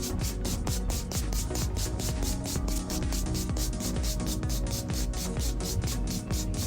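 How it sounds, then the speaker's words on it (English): A nail buffer is rubbed over a hard gel nail surface to smooth it, giving quick, regular, close-up scratchy strokes that repeat steadily, several per second, without a break. "now we're going to buff the whole nail surface, make it nice and smooth"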